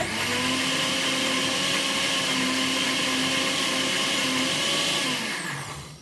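A Homtiky table blender blends chickpea dal with a loud, steady motor whir and churning that holds evenly for several seconds, then begins to wind down at the end.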